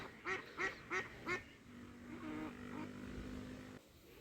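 Four quick quacks from ducks swimming on water in England, then a low steady engine-like drone hums for a couple of seconds.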